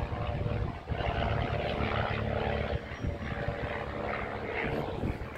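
A propeller aircraft flies overhead at Sywell Aerodrome, a steady loud droning engine roar filling the whole stretch, with no talk over it.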